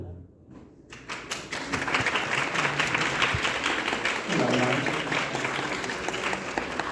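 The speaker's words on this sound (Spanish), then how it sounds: "Pido que recibamos con un fuerte aplauso a Mical García, Damián Eric, Quino Islas" A crowd at a book fair literature panel breaks into applause after a brief quiet start, many hands clapping steadily and loudly, with some voices mixed into the clatter.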